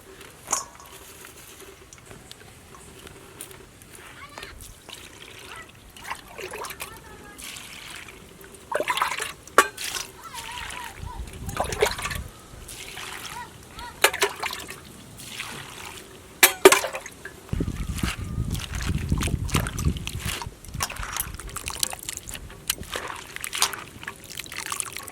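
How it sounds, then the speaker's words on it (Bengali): Wet trickling and splashing as Malabar spinach seeds are rinsed by hand in water, intermittent sloshes and drips building to a fuller swirl near the end, close and without talking. "পুঁই বিটুলিগুলোও ভালো করে ধুয়ে নেব।"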